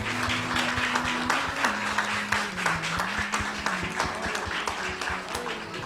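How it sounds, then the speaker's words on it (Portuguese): A crowd claps steadily and continuously at a church service, broad applause filling the space with a low sustained tone underneath. "Aplauda o Senhor Jesus"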